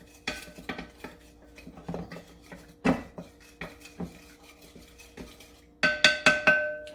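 Butternut squash dessert ingredients with allspice and cinnamon are stirred in a bowl, a spoon scraping and clinking in irregular knocks, ending with a quick run of brighter metallic taps.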